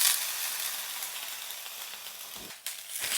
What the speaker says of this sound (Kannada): ಇವಾಗ ಫ್ರೈ ಆಗ್ತಿದೆ